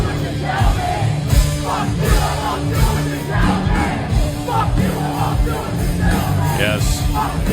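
A crowd yelling and whooping at a rock protest performance against the Trump administration, a dense continuous roar of many voices with rhythmic surges, loud and close.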